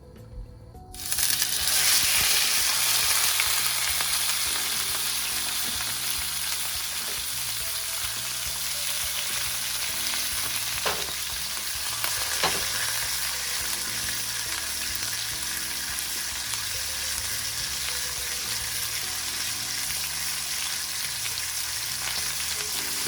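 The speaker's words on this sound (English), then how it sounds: "I have the heat on pretty high, so it's gonna give me a nice quick sear" Tri-tip beef searing in very hot grapeseed oil on high heat, a loud, steady, close sizzle that starts abruptly and holds throughout with a couple of faint clicks.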